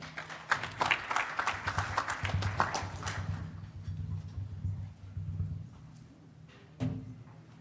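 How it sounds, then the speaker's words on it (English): Applause from a cybersecurity conference audience as a panel session begins, moderate clapping for about three seconds that fades quickly, leaving a quiet room with a low hum and a single later knock. "A big round of applause as they start their session."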